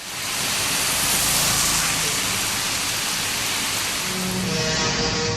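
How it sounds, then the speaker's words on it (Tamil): Sudden heavy rain falls in Ambur and Vaniyambadi in Tirupattur district, Tamil Nadu, as a loud, dense, steady hiss that is constant throughout with no voices. "திடீரென கனமழை பெய்தது"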